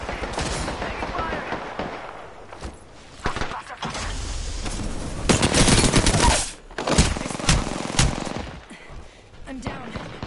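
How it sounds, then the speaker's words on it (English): Gunfire in the Apex video game, including shotgun blasts, comes in loud bursts and rapid volleys with brief pauses between, while voices speak underneath. "Someone's got a shotgun."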